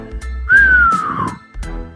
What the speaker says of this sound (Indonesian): Dari mulutnya keluar suara siulan.